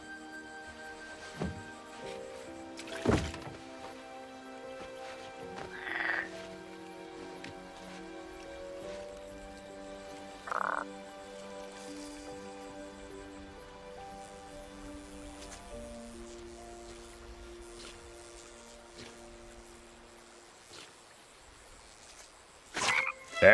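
Frogs croak in a quiet, rainy outdoor scene of the 2015 King's Quest video game, in sparse faint calls over soft ambient tones and drips.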